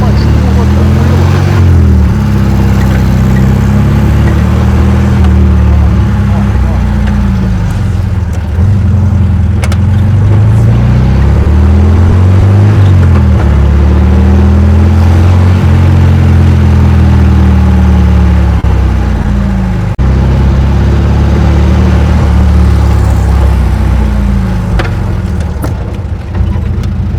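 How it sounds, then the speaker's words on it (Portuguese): A small homemade car's engine runs loudly throughout, its pitch repeatedly rising and falling as it revs and eases, with occasional voices over it. "O carro faz curva tranquilo."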